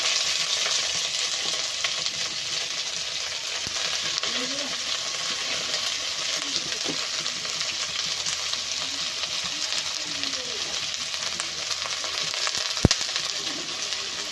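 Cabbage frying with onion and green chilli in a pan for noodles, giving a steady, dense sizzle that holds at an even loudness throughout, with faint stirring scrapes and one sharp metallic clink near the end.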